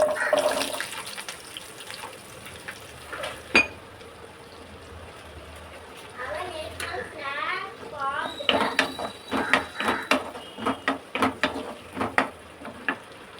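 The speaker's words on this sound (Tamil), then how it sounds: "சின்ன துண்டு பட்டை ரெண்டு கிராம்பு நல்லா அப்புறமா சின்ன வெங்காயம் சேர்த்துக்கிறேன்" Cinnamon, cloves and small onions fry and sizzle in a pan, crackling and bubbling steadily with a sharp clatter of the ingredients being added, while a person talks over the cooking.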